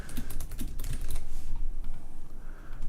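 Rapid clattering keystrokes on a computer keyboard, typed in quick bursts that pause briefly and then resume, close and clear with no talk.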